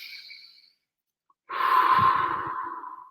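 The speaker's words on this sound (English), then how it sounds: "Once again, breathing in." A person doing a deep breathing exercise: a faint inhale, a pause of silence, then a long, close, audible exhale that fades out.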